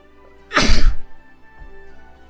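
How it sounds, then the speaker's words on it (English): A single loud, sharp sneeze bursts out close to the microphone, followed by quiet background hum and a faint breath. "I'm having a sneezing fit, that's the problem."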